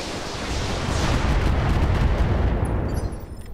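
Mech weapons firing in the BattleTech mod Roguetech, a heavy continuous barrage of booming, rumbling blasts and explosions that swells loudly and then tails off, with no talking.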